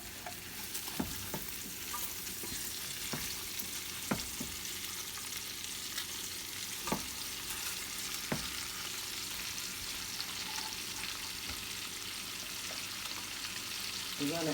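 Chopped cabbage fries in hot bacon grease with a constant dense sizzle, broken now and then by sharp utensil clinks and scrapes against the pan.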